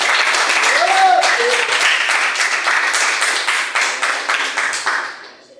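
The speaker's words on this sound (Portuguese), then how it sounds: "Você pode dar uma salva de palmas bem forte para Jesus." A church congregation claps loudly and steadily for several seconds, a dense roar of applause with a brief voice audible early on, fading out at the end.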